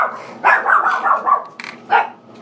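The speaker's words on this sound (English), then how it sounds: "No barking." A dog barks several times in quick bursts, close and loud, with short pauses between the barks.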